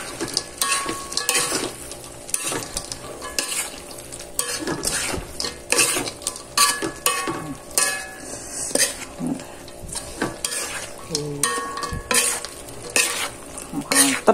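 Rendang being reheated in a frying pan, with a spatula stirring and scraping against the pan in an irregular rhythm over a steady sizzle, close and fairly loud, with no talking.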